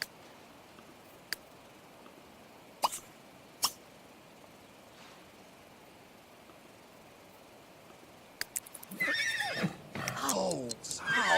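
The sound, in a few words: horse neighing in The Sims 3 video game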